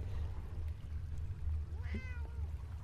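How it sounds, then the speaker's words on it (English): A cat in the video game Fallout 76 gives a short, fairly clear meow over a steady low background hum, with no talk. "Oh yeah, there's another cat here, Dylan."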